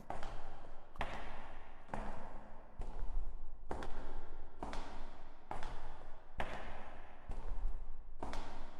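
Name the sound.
footsteps in the video game Between the Rooms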